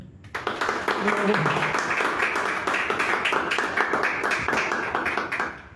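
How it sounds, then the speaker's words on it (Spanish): An audience applauds a guest at an evening talk, a burst of clapping that starts abruptly and holds steady for several seconds, with some voices mixed in beneath the claps. "Un aplauso para nuestro invitado."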